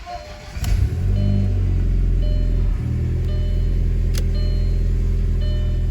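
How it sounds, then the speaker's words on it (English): An Audi A4, just fitted with new suspension, drives on a test drive: a loud, steady engine and road rumble that swells after a brief quieter start, with no one speaking. "I'm gonna take you guys for a test drive right now"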